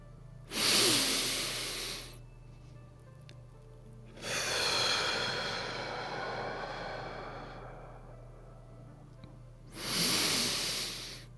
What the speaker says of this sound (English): take 3 nice deep breaths. In through our nose, hold for a moment, and exhale through our mouth